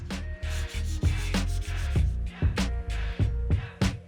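Sanding of a wooden board for a wall desk, close up, in quick uneven back-and-forth rubbing strokes with brief pauses between them, gritty and steady.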